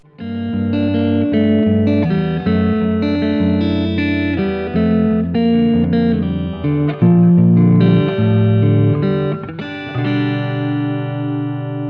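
Epiphone Les Paul Custom electric guitar with a clean tone plays a continuous sequence of chords and notes, sustained and ringing, with no voices.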